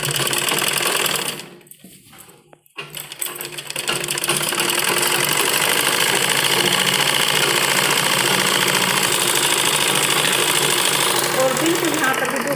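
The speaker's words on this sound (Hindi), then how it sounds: "और अब हम ये चारों तरफ राउंड की सिलाई करेंगे।" A sewing machine runs almost nonstop while stitching a semi-patiala salwar, dipping briefly near the start and then humming steadily for the remaining stretch.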